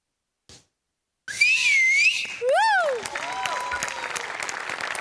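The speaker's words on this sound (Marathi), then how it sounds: "तुमच्या दोघांसाठी होती शिट्टी" A studio audience at a Marathi comedy show whistles loudly for the performers, one long wavering whistle followed by a sharp rising-and-falling wolf whistle, over steady applause and crowd noise.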